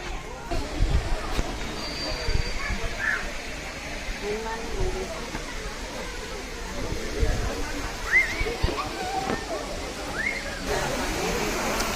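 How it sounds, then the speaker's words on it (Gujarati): A waterfall near Tirumala gives a continuous broad rushing roar that stays steady throughout, with people talking over it and a few faint background calls. "આ અવાજ તો આવે છે પાણીનો, જે તમે જોઈ શકો છો. આ વોટરફોલ આખો નીચે જાય છે"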